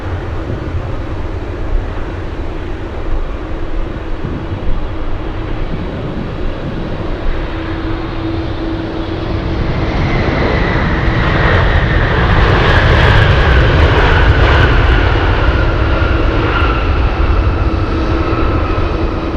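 FedEx jet arriving from Seoul at Anchorage airport, a steady engine roar that swells louder and brighter over the clip's latter half, with no one talking.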